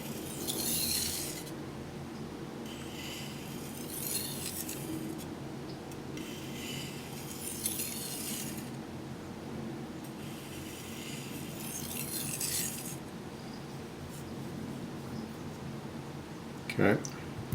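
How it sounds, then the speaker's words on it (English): A knife is sharpened on a whetstone with long alternating sweeps at medium pressure, giving repeated soft, rasping strokes of about a second each with pauses between, close and fairly quiet over a low background hum. "long sweeps with sort of medium pressure just to try to even the bevel out."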